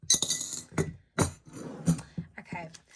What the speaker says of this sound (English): I'm just going to put the change into this jar and get it out of the way